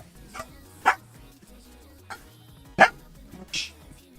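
A dog barks a few times from nearby, with two sharper, louder barks among softer yips spread over several seconds.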